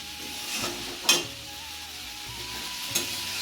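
Chow mein with winter vegetables frying in a pan, a continuous soft sizzle with a couple of sharp scraping stirs, close and without talk.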